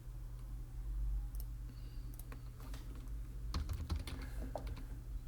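Keys clacking on a computer keyboard as text is typed into a title field in Premiere Pro, irregular clusters of close clicks over a steady low hum, no talking.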